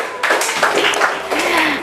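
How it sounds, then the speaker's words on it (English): Classroom students clap for a group of classmates, a short burst of loud, close, dense hand-clapping that runs for about two seconds with some voices mixed in. "give applause for Janet's group"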